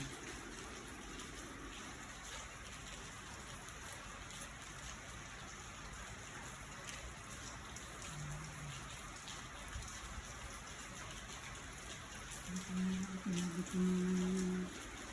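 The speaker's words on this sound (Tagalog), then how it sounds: "umuulan na maghapon na tong ulan" Steady rain falls all day outside a home, a continuous soft hiss of drops on surfaces heard from nearby, with a faint low rumble and a brief louder swell near the end.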